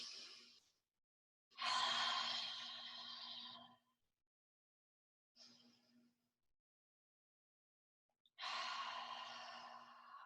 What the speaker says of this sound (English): So those are our ocean breaths.